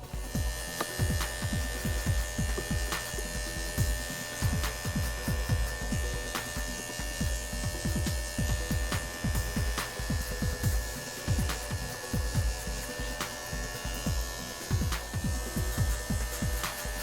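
Andis 5-speed electric hair clippers with a number 1 guard run continuously during a haircut, giving a steady close buzz and hum with irregular low thumps and rustling as the blade moves through hair.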